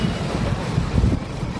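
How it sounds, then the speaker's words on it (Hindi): Strong wind blows before a storm under darkening skies, a loud, continuous roaring rush with gusty low-end buffeting against the microphone and no voices. "और आंधी तूफान सा पूरा हो रहा, पूरी हवा चल रही"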